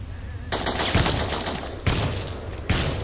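Three loud combat shotgun blasts in a video game, each a sharp broadband burst with a long decaying tail, the first landing about half a second in and the others spaced over roughly two seconds.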